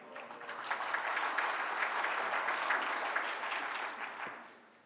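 Sustained audience clapping at an education board conference hall, dense and steady for several seconds before tapering off, with no talk over it.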